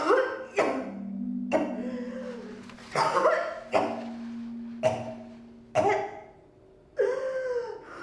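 Several harsh, wet coughs in bursts, close and loud, with strained vocal sounds between them.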